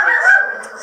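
A dog gives a single short, loud bark or yelp nearby, harsh and tonal, lasting under a second in an indoor home setting.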